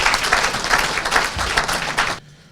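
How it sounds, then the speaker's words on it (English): Applause from an investment conference audience welcoming a speaker to the stage: close, full clapping that holds steady, then cuts off abruptly near the end. "Let's welcome with him with a round of applause."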